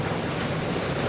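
Heavy, steady rain pours without a break during a typhoon, a dense broadband wash that stays loud and even throughout, with no voices.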